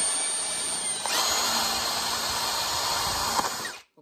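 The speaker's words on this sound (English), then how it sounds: "So right now I'm going to drill some holes." A power drill bores holes through an orchid pot, running steadily and loudly for a few seconds at close range before cutting off abruptly.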